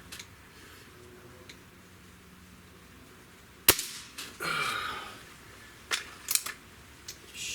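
A Crosman TR77 air rifle fires a single shot, a sharp close crack followed by a brief rattle and mechanical handling clicks in a quiet outdoor setting.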